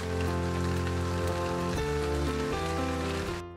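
Light rain in an Unreal Engine 5 hail scene gives a steady, even hiss of falling drops under sustained tonal music, cutting off abruptly at the end.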